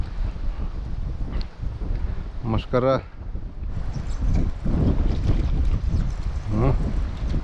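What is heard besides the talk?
wind blowing at a lake while fishing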